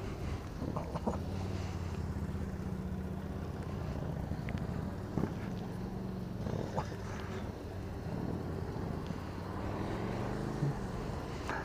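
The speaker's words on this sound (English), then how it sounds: "Here's a BMW coming up." A BMW police motorcycle works through a cone competition course at a police event, its engine a steady, moderately loud drone that rises and eases as it maneuvers, with wind noise and crowd murmur around it.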